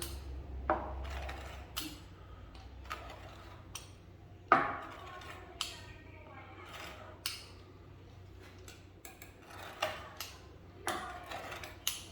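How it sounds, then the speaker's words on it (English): A knife cuts rolled potato dough into pieces on a board, making scattered soft taps and sharper knocks at an uneven pace, fairly faint and close with a quiet background. "Now we will cut into the pieces."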